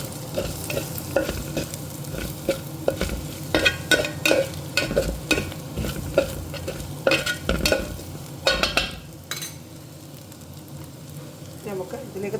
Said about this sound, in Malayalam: മല്ലിപ്പൊടി, മുളക് പൊടി, മഞ്ഞൾപ്പൊടി ഇത് ചേർത്തങ്ങിടുവാണേ. നമുക്ക് നന്നായിട്ട് ഇളക്കി കൊടുക്കണം.